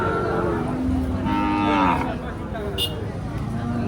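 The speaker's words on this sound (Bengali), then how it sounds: "এটা একটি দেশি বাছুর" A native-breed calf at a post-Eid cattle market lets out a long, loud, drawn-out moo up close, over a steady murmur of the crowded market.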